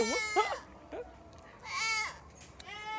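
Several goats bleat in short, wavering cries, a couple close together at the start and more after pauses, fairly near and clear.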